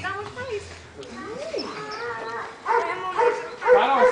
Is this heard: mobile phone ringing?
no